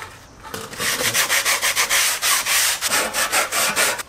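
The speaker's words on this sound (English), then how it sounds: "So then paired with some sandpaper polishing." Sandpaper polishes a surface in quick, even back-and-forth strokes, a close, loud rasping rub repeating steadily with no voices.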